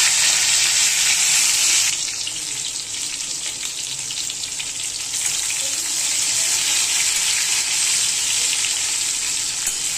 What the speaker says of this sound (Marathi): तेलामध्ये ना चांगली फ्राय करून घ्यायची